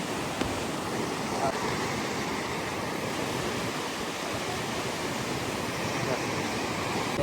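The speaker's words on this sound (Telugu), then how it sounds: "అక్కడ లంగరోడ్ నుంచి ఇక్కడ ఇటు సైడ్ వెళ్తే ఫ్రెండ్స్ ఇది మన ఈ వాటర్ ఫ్లో అనేది" Floodwater at Langar House rushes steadily over a waterfall toward the Musi river, a continuous broadband roar that stays loud and even throughout with no pauses.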